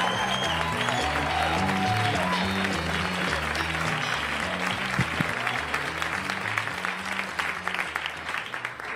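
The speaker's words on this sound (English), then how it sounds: "Let's give him a big rousing round of applause for Orlando Baxter, ladies and gentlemen." A comedy club audience at a stand-up show applauds and cheers a comedian taking the stage, loud, dense and continuous throughout, with music underneath.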